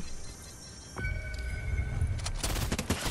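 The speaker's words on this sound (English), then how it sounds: "shots coming from skate park" Gunfire in Fortnite crackles in rapid, distant bursts coming from the skate park, sharp cracks and rattling volleys that build up toward the end.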